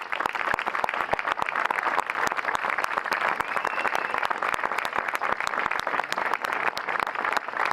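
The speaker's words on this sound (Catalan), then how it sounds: "m'agradaria un fort aplaudiment per a ell" A big round of applause from the crowd at an open-air Aplec gathering, steady dense clapping that holds evenly throughout at moderate volume, with no voices standing out.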